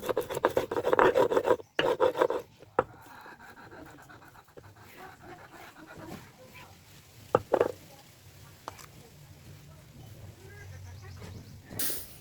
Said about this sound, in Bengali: মাছের জন্য আমি মশলাগুলো বেটে নিব এখানে বাটা মশলার জন্য নিয়েছি আমি পেঁয়াজ রসুন ও আদা